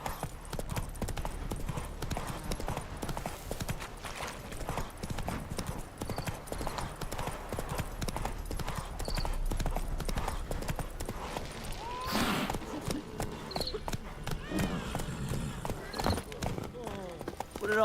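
A horse's hooves clip-clop steadily in The Witcher 3 video game, a continuous close gait running throughout at moderate loudness over game ambience, with a brief burst of noise near the end.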